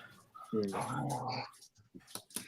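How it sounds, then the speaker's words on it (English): A dog growls in a sustained, rough rumble for about a second, then gives a few short whimpering or yipping sounds, with faint background noise around it. "Some dog is getting really ticked right now."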